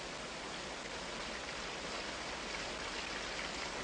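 Creek water flows in a continuous, steady broadband rush, close and alone with no talking.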